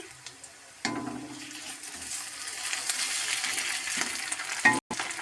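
Ginger paste drops into hot oil and sizzles, a sudden hiss that holds steady with a few stirring scrapes and a clink near the end.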